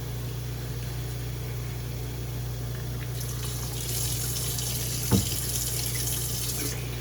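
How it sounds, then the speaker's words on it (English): Tap water runs steadily into a light-safe film developing tank to rinse photographic film, a constant close hiss over a low hum, brightening into a louder splashing stream partway through, with one brief knock. "So the first thing you do is just give it the film a rinse."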